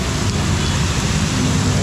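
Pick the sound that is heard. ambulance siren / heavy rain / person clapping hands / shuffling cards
heavy rain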